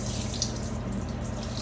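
Regular water carrying Castile soap drains steadily down a sink, a continuous close rushing and trickling wash with no talking.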